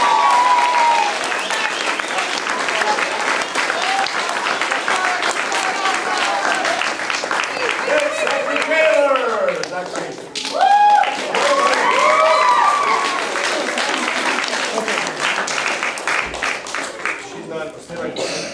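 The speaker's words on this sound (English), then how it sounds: "Give them a big round of applause" An audience at a martial arts belt ceremony keeps up sustained, dense applause for a long stretch, with a voice speaking over the clapping and a brief lull partway through.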